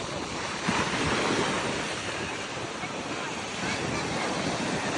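Ocean surf rolling onto a beach in Australia, a steady broad wash of breaking waves with wind buffeting the microphone, continuous and fairly loud with no voices.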